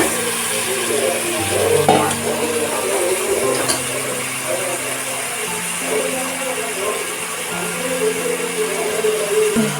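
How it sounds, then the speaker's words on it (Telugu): Washed mutton head meat frying in a hot pan, a steady close sizzle with occasional scraping and clinking of a utensil, a low hum running underneath. "కడిగి పెట్టిన తలకాయ కూరను ఇందులో వేయాలి."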